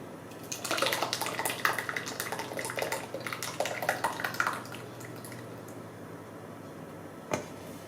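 Tomato passata pouring into glass jars, a soft continuous liquid stream with gurgles for a few seconds, then quiet with a single small knock near the end.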